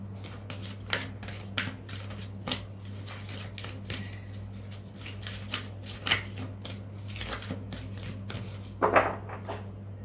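Tarot cards being shuffled by hand, a series of crisp riffling bursts and soft slaps at irregular intervals, close and fairly quiet over a steady low electrical hum.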